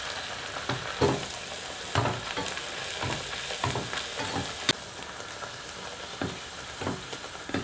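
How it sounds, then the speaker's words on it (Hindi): Aloo puris made with semolina bubble and crackle in hot oil, a close, continuous sizzle rising in soft, regular bursts as the dough is turned. "अब गरम तेल में हम पूरियों को डालते हैं"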